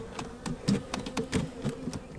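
Honey bees buzz continuously during a three-way fall hive combine, a steady droning hum with individual insects passing close by in rising and fading swells.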